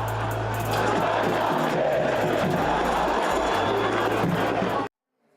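Football supporters of Santos chanting together in a stadium, a loud sustained roar of massed voices that stops abruptly near the end.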